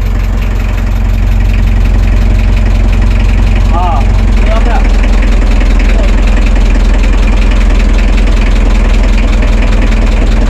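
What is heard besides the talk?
small boat engine running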